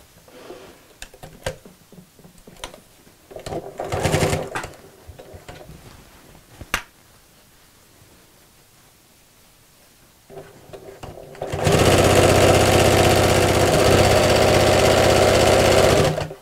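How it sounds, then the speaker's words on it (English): Scattered handling clicks and knocks lead into a sewing machine top stitching across the opening of a picnic blanket, which starts around the two-thirds mark and runs as a loud, steady, close whir to the end. "as I top stitch across the opening, I'll just fold the ends in and sew straight across"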